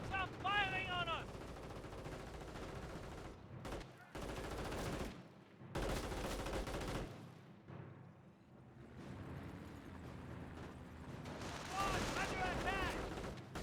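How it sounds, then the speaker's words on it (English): Battle gunfire in Company of Heroes, with Wehrmacht and US forces, rattles in repeated bursts of rifle and machine-gun fire with crackling volleys, mixed with in-game voices and a commentator talking throughout. "Enemy troops are firing on us!"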